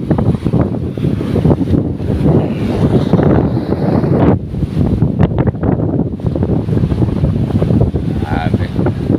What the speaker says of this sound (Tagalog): Nagwawala talaga ang alon dito sa amin mga bro.